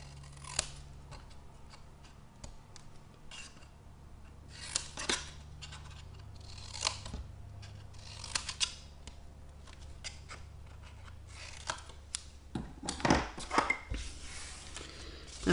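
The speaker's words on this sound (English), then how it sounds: "So I'm going to cut them at an angle and then just chop a little bit away." Scissors snipping through card for a craft gift box, a series of short crisp cuts at irregular intervals, close and fairly quiet, with small rustles of paper handling between snips and a faint low hum underneath.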